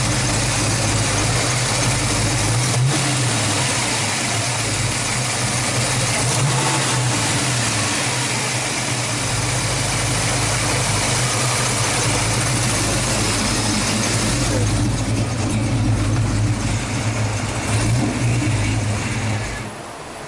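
A Ford Mustang hot rod engine idles steadily and loudly throughout, a constant low rumble with a slight dip near the end, with no voices over it.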